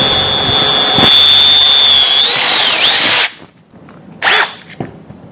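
A Milwaukee M12 Fuel cordless drill spins at speed 2, boring loudly and steadily for about three seconds with a whine that dips as the bit loads, then stops and gives a brief second burst.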